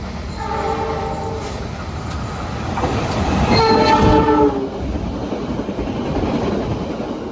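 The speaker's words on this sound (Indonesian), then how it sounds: "kereta api Lodaya bersilang dengan kereta api Malabar di stasiun Awi Pari" The Lodaya train rumbles past the Malabar train at a station with clattering wheels as horns sound in long tones, one after another, loud and close.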